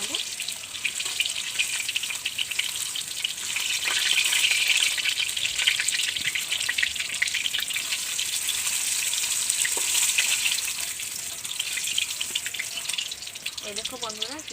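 Fish curry ingredients fry in hot oil, a steady bright sizzling hiss that holds throughout at close range, swelling slightly midway, with no speech over it.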